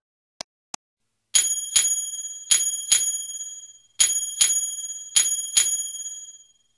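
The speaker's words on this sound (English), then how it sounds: "Bike." A bicycle bell dings: two light taps, then four pairs of bright, ringing double chimes, each note decaying cleanly.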